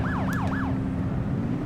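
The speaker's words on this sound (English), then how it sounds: "Just testing the siren." A police car siren in the video game The Precinct gives three quick rising-and-falling wails and then cuts out, leaving a steady engine hum underneath.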